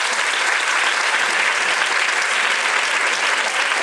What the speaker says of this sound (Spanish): Bueno pues Raquel, un aplauso Campos.